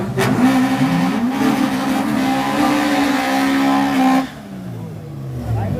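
A wedge-shaped drag racing car at a drag day event revs its engine loudly and steadily for several seconds, then drops off sharply, with crowd noise and voices around it.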